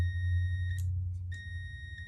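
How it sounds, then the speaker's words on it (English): A Honda turn signal switch sets off electronic beeps, three short tones at a regular pace, over a low steady hum. "if you can hear it, hear that beep"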